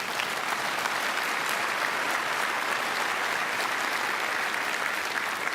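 An audience claps steadily and loudly at a church-style talk about marriage, a dense continuous wash of applause with no voices over it.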